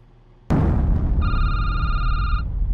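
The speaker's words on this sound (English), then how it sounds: "Answer the phone!" A telephone in a security booth gives a single loud electronic ring burst that starts abruptly and holds steady for about a second over rough, noisy background rumble, without any speech.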